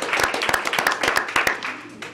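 A school board meeting audience claps and cheers for a student being honored, a brisk run of close, uneven handclaps fading slightly toward the end.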